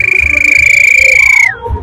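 A toy whistle copying a police whistle, bought at a fair, gives one steady, shrill, piercing tone held for about a second and a half before it drops away, with faint background noise beneath.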